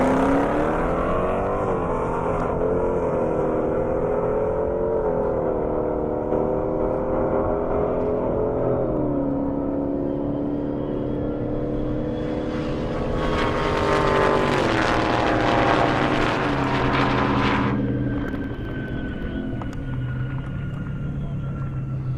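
A Dodge Hellcat and a Ford GT500 drag racing down a half-mile airport airstrip, heard as loud sustained engine roars with rising pitch through the gears, a second powerful engine swelling in partway through and then fading.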